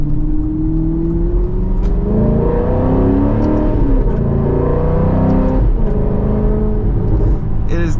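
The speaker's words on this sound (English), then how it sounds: "It's got a lot of pops and crackles when you downshift to second." A 2009 Alfa Romeo 8C Spider Competizione engine runs loud and close as the car downshifts to second, with rising and falling revs and a few sharp pops and crackles on the overrun, under someone speaking.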